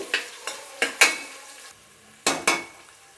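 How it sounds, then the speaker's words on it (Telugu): A spoon scrapes and clacks against a pan as onions and green chillies are stirred in sizzling oil, in sharp repeated strokes with short pauses, close and clear. "ఆనియన్స్ కొద్దిగా కలర్ మారేదాకా మనం ఇలా కలిపెడుతూ ఉండాలండి"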